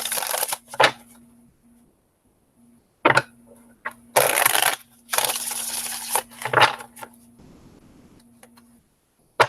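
Tarot cards being shuffled by hand in a few separate bursts of crisp riffling and shuffling, with quiet gaps between them, close and moderately loud.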